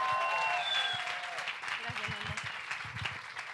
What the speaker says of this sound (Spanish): Quiero que podamos esta noche recibir con un fuerte aplauso a la pastora Joana,